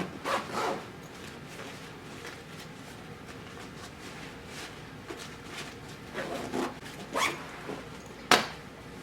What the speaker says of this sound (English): And then you just zip it up.